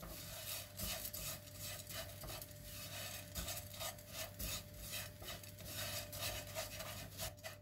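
Vermicelli being stirred and toasted in a pan with flour, a steady scraping and rubbing of the utensil against the pan with a faint sizzle underneath, close and continuous with no talking.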